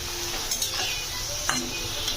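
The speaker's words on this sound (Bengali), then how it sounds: "এগুলো ভাজা হয়ে আসছে প্রায়" Steady sizzling of raw potato chips frying in hot oil, with occasional light clinks and stirring scrapes of a utensil against the pan.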